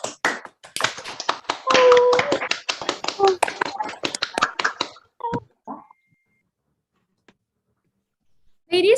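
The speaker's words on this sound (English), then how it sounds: "let's cheer for all the delegates" Audience applause for the delegates at an international cultural day event: scattered, sharp hand claps with some voices for about five seconds, then near silence.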